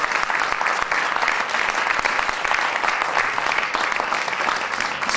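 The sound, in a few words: audience applause at a gala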